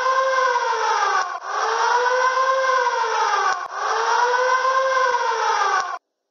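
A loud gas alarm siren, triggered by gas detectors at an industrial field site, wails in repeating cycles, its tone rising and settling, each cycle about two and a half seconds, then stops abruptly.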